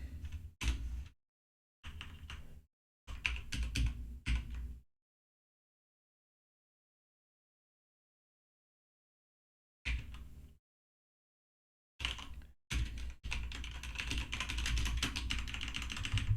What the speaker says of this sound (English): Man, I'm really enjoying this mechanical keyboard now.